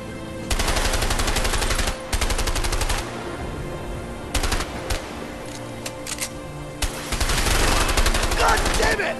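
Sustained automatic gunfire in the co-op video game A Way Out, rapid machine-gun bursts separated by short pauses, loud and close, followed by a longer heavy volley near the end.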